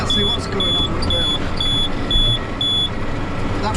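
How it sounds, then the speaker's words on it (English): A hay baler signals with a row of regular electronic beeps after finishing a 4-foot bale, six evenly spaced tones sounding over steady tractor engine rumble. "That bleep there is telling us that it's ready."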